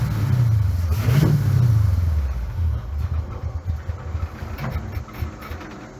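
A car engine with a freshly adjusted carburetor revs roughly, surging loud near the start, then sagging and stumbling unevenly as it struggles to take throttle, recorded close up.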